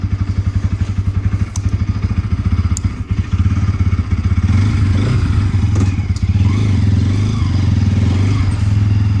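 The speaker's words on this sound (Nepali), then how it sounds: "हाम्रो चाहिँ यहाँ कोल्ड स्टार्ट भइसकेको छ बाइक" A motorcycle engine idles steadily after a cold start with a fast, even putter, loud and close, with a few clunks and a slight rise in revs partway through.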